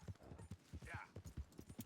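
Horse hooves clip-clop at a quick, steady gallop in a Red Dead Redemption 2 game scene, the rhythmic beats close and clear with a brief soft swish midway.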